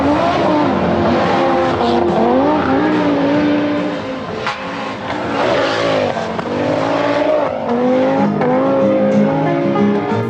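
An Audi five-cylinder rally car engine howls and revs hard, with rising and falling pitch through gear changes, loud and continuous from start to finish.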